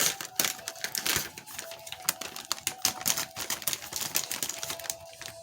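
A Temu delivery package being cut open by hand, with a quick run of sharp, dry clicks and scratchy snips close by. The ticking is irregular and carries on steadily with no talking.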